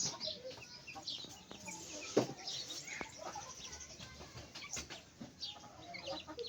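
Roosters clucking from up in a tree on a village farm in the evening, soft and somewhat distant, with scattered short calls over a steady outdoor background and no talk.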